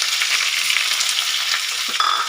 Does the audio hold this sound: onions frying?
yes